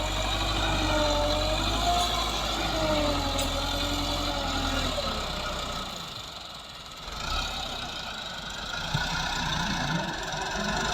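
A Massey 385 tractor with a hydraulic problem runs nearby, its engine a steady low rumble with a knocking, slightly labouring tone that dips briefly midway and then recovers.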